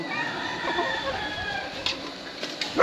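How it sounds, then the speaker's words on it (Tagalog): Chickens kept on a rural property cluck and crow in a steady busy chorus, with a few sharper calls rising near the end. "ang dami nilang alagang manok"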